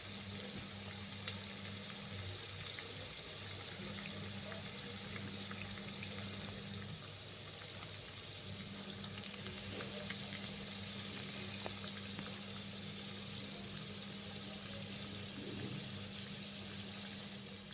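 Cauliflower pakodi fritters frying in hot oil, giving a steady, close crackle and sizzle with a low hum underneath and no voices.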